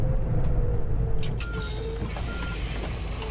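A large bus engine rumbling steadily up close, low droning throughout with some faint beeps and rattles over it.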